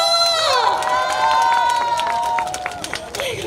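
An audience at an outdoor opening-celebration concert claps and cheers for a singer, crowd noise and scattered claps under a sustained tonal whoosh and voices, with cheering shouts rising briefly near the end.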